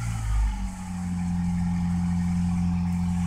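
A 1990s Acura Integra DB7 sedan with an LS-VTEC engine settles into a steady, mellow idle, a low even rumble close by with a slight swell in the first moment, then holding constant.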